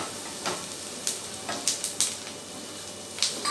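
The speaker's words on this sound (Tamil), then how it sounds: "நல்லா வதங்கிட்டுருக்கு." Onions, tomato and green chilli sauté in a pan for a potato side dish, with a soft steady sizzle broken by sharp, irregular clicks of a spoon scraping and tapping the pan, close and without talk.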